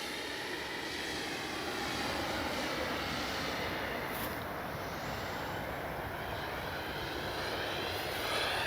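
An RC model jet, a FlyFans Baltic Bee running its afterburner, roars past in a dense, continuous rush whose pitch sweeps as it passes, steady and loud throughout.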